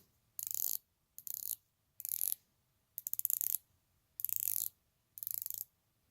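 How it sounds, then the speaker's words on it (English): Clicks from a unidirectional dive watch bezel on a Nautis Dive Chrono 500 being turned in short bursts, six quick ratcheting runs separated by brief pauses, close and crisp with no talking. "The bezel itself, unidirectional. Give you guys a good listen here."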